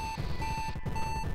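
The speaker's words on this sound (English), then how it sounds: "the emergency, you're dying beep." The low-health warning in the video game Axiom Verge repeats as steady electronic beeps, three evenly spaced tones over a low rumbling game background with no talking.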